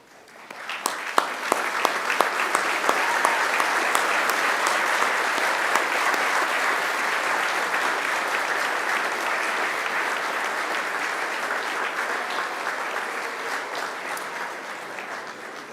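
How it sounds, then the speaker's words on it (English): A large graduation ceremony audience applauding, a few scattered claps building quickly into sustained, even clapping that holds steady and fades slightly toward the end. "please join me in giving them a round of applause as thanks for everything"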